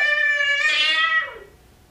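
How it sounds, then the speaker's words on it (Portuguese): A single domestic cat meow, clear and close, rising then trailing off over about a second, heard alone without speech. "ouviu o miado de um gato?"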